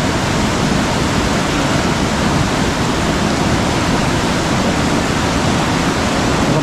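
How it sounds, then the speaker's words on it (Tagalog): Heavy floodwater rushes in a constant, loud roar during nonstop overnight rain, a dense wash of sound with no pauses or voices. "tuloy-tuloy yung paglakas ng tubig"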